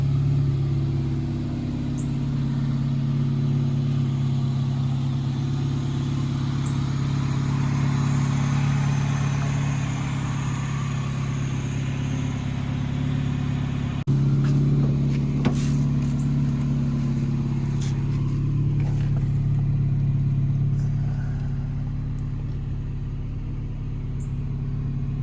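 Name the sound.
2000 Honda Civic D16Y7 engine running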